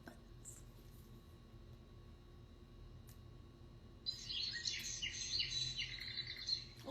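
A small baby sound machine switched on to its bird setting plays bright chirping birdsong that starts partway through, fairly loud and continuous over a faint background hum.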